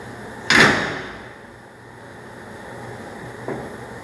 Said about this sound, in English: So press the button, kicks the door up, get your finger under it, and put your fuel in.